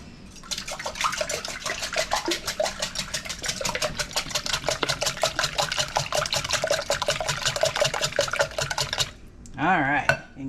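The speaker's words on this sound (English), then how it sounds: "I'm going to give the eggs a whisk." Eggs whisked for tater tot egg bites, a fast steady run of rhythmic clicking and tapping of a whisk against a bowl that stops abruptly near the end, followed by a brief burst of other noise.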